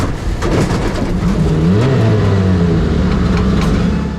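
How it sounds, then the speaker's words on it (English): A race car launches hard off the line, its engine note climbing through rising sweeps over a loud rumbling roar, close and continuous without speech. "Off the line, it's clear Travis isn't holding back"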